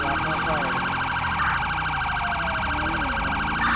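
Police siren in a GTA roleplay pursuit, a loud continuous warbling wail running throughout over road and engine noise, with speech faintly mixed in.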